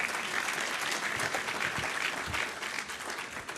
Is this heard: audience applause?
yes